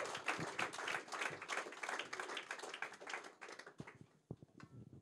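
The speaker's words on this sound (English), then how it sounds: "j'aimerais que vous applaudissiez très fort pour accueillir le PDG de Rise Kombucha, Julian Giacomelli." Audience applause greeting a company CEO onto the stage at a Fuckup Nights talk event: dense, sustained clapping from a crowd that thins and tapers off toward the end into a few scattered claps.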